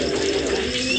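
Pigeons coo steadily and close by at an end-of-year pigeon auction, a continuous soft, throaty murmur with faint chirps mixed in.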